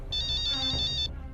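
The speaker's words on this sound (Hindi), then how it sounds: "अरे ये तो वही संदीप के आदमी का फोन है।" A mobile phone ringtone chirps a quick, high-pitched repeating electronic pattern for about a second over faint background hum.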